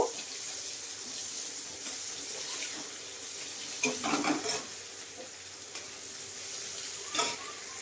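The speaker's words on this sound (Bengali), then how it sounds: "দিয়ে দেবো পেঁয়াজ কুচি তো পেঁয়াজটাকে একটু ভাজে ভাজে করে নেব" Chopped onion frying with panch phoron in a pan, a steady close hiss with occasional louder bursts of sizzling and stirring scrapes.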